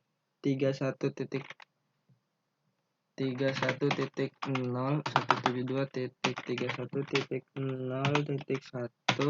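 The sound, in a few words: typing an IP address on a computer keyboard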